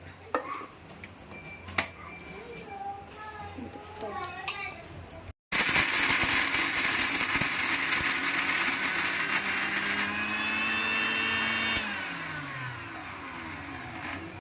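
A kitchen mixer grinder grinding small crabs starts with a sudden loud whirring roar partway through and runs steadily, its pitch shifting near the end; before it, speech and children's voices sound over light kitchen clatter.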